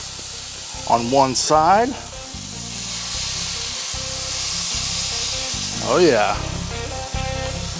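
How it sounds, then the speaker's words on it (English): Burgers sear on a flat-top griddle for crack burgers, giving a steady, close sizzling hiss that runs throughout beneath background music, while a person talks briefly over it. "Now it's time to start searing these burgers."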